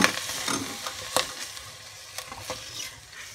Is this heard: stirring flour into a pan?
yes